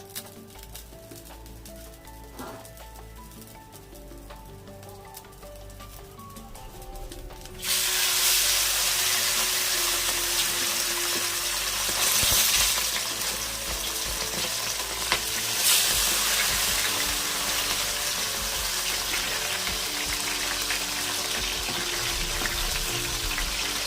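Fish pieces fry in hot oil, starting as a quiet low sizzle and jumping to a loud, bright, steady crackle partway through that holds to the end, with no voices.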